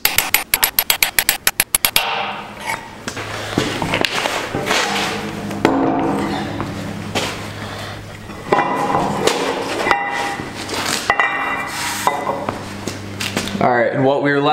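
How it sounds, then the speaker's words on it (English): A hammer strikes a transfer punch to mark indents on a thick cast iron fab table, opening with a fast run of sharp metallic raps, then scattered clanks beneath steady talk. "I'm just gonna give it a little whack and it will leave that indent onto the workpiece"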